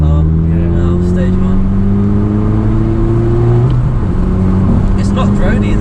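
A loud stage 1 tuned car with a 180-horsepower engine drones steadily up close, its pitch climbing under acceleration and then dropping sharply as it shifts, with voices talking over it.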